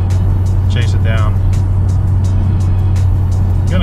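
Honda Civic Type R engine idling with a misfire, a loud low steady idle rumble with uneven stumbles, with brief bursts of voices over it.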